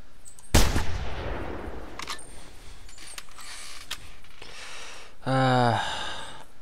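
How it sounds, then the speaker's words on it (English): Rifle shot at a deer in the hunting video game theHunter: one sharp, loud report followed by a decaying echo, then faint rustling and quieter clicks in the background. "We had to shoot him again."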